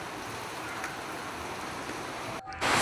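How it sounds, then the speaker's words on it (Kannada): Heavy rain falls with wind as a dense, steady roaring hiss that fills the whole stretch, dropping out briefly near the end before returning louder. "ಗಾಳಿ ಮಳೆ ತುಂಬಾ ಜೋರಾಗಿತ್ತು"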